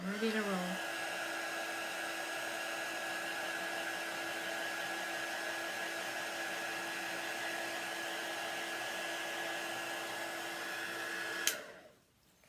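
A heat tool runs steadily with a constant high whine and airy rush while drying chalk paste on a craft project, close and unbroken for about eleven seconds before it clicks off into quiet.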